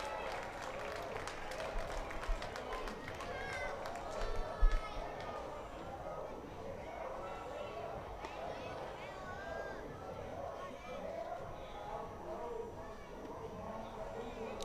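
A minor league baseball crowd at a Lexington Legends game applauds and cheers as a batter steps up, a steady roar of applause and chatter under a commentator talking throughout.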